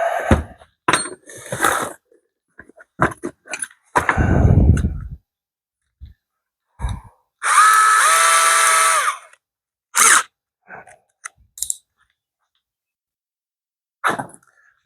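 A power drill runs during construction of a stained, wood-trimmed model train table. It gives short bursts amid scattered clunks and handling noises, with a steady whirring run of a second or two near the middle.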